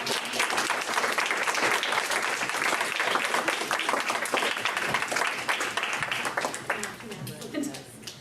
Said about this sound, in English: please give one more round of applause for Tom